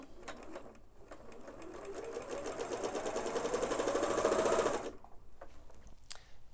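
Sewing machine running a single continuous burst of stitching as two fabric pieces are joined right sides together with a quarter-inch seam, the whir steadily rising in loudness before stopping abruptly, with quiet handling noises before and after.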